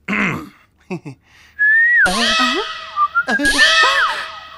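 A man whistles in imitation of a pressure cooker, giving sharp rising and falling shrill blasts in several bursts, close and loud, with short vocal noises between.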